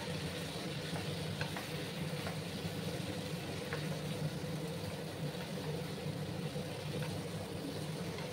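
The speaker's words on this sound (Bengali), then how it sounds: "ভালো করে আমি এটাকে আদার কাঁচা গন্ধটা না দেওয়া অবধি আমি কষিয়ে নেব" Tomato, ginger and green chili paste sautéing in a pan, a steady close frying sizzle with faint stirring scrapes running evenly throughout, no voices.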